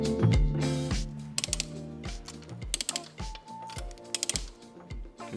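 A torque wrench tightening the wheel nuts on a Mercedes W211 E63 AMG estate, rapid ratcheting clicks in repeated short bursts with brief pauses between them, close and fairly clear with no talking.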